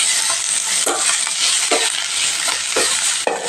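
Garlic, ginger and green chilli sauté with onion in a pan for a curd mustard gravy, a loud continuous sizzle broken by regular spatula scrapes and stirs.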